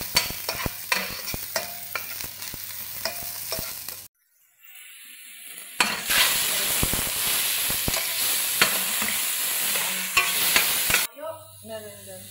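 Bihon rice noodles for Bisaya bam-i pancit are stir-fried in a hot pan, a close sizzle with scraping clatters, breaking off into near silence before resuming as a denser, steady frying hiss, without speech.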